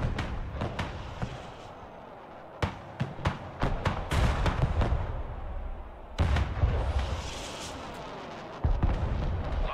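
Rocket artillery firing in the battle game Broken Arrow: a rapid series of sharp, loud launch bangs with rumbling booms. The bursts come in clusters, separated by heavy low rumble and a dense roar of continuous combat.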